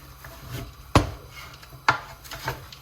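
A wooden spoon stirs chopped turkey thighs in a large pot, giving two sharp knocks against the pot's side amid soft scraping and shuffling, fairly close and quiet.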